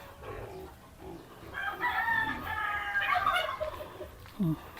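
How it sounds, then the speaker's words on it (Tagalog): Backyard turkeys on a provincial farm gobble in a burst of warbling calls over steady farmyard background noise, fairly close and moderately loud. "Maingay din yung pabo namin."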